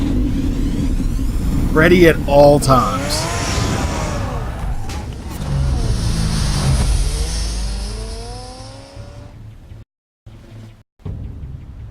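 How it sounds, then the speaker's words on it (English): The Batmobile in Telltale's Batman game revs hard, its engine rising in pitch as it pulls away and roars off, fading until a brief silence. A voice talks over the engine near the start. "The Batmobile."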